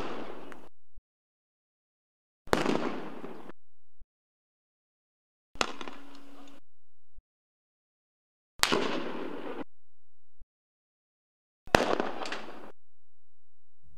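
Five separate gunshots recorded by a Palestinian TV crew on Nakba Day, sharp cracks spaced about three seconds apart, each with a short echoing tail, isolated against silence.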